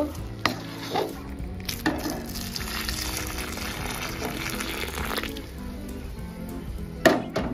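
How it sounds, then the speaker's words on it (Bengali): A spoon stirring chana dal halwa with milk in a pan, soft scraping and sloshing passes with a faint sizzle beneath and a few sharper knocks against the pan, close up. "ভালো করে এইভাবে নাড়িয়ে নেব"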